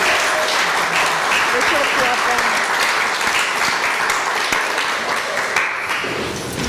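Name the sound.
applause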